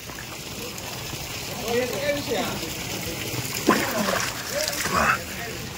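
Water splashes and sloshes continuously as people play in it at a villa, with voices calling out over the steady wash of water.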